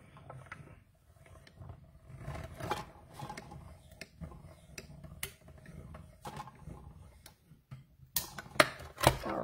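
A manual die-cutting machine cranked by hand to cut cardstock makes a run of irregular clicks, ticks and low grinding creaks, quiet at first and then louder sharp clacks near the end.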